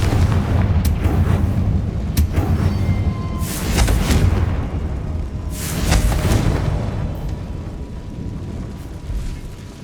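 Repeated blasting-spell explosions from the Hogwarts Legacy video game, several deep booming bursts with rumbling tails spaced a few seconds apart, loud and close with no talk.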